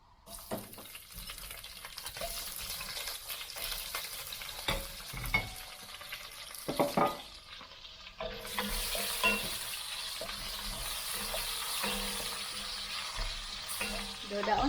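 Onions frying with browned pork in a pan, a dense crackling sizzle punctuated by clanking stirs and scrapes, a brief lull midway before the frying surges again, close and loud with no speech.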